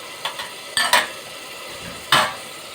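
A spoon stirs ghee and filling for macaroni béchamel in a pan. A few short scraping clicks and taps break a quiet, faintly sizzling background, with one firmer scrape near the end.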